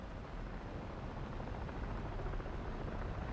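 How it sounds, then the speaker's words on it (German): A helicopter in the War Thunder video game gives a steady, dense broadband rotor and engine roar that stays constant throughout, with no speech. "ich schieße auch gerade den Heli ab"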